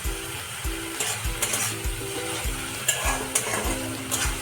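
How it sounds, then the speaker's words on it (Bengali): Spice paste frying in a pan for a spicy loitta fish curry, a steady sizzle under rhythmic, repeated scrapes of a spatula stirring it at close range, with no speech. "মশলাটা আগে থেকে ভালো করে কষিয়ে নিচ্ছি।"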